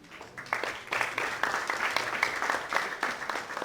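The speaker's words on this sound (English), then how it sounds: "A huge round of applause." A large crowd at a fashion show applauds steadily throughout, dense continuous clapping with a few louder swells, fairly close and loud.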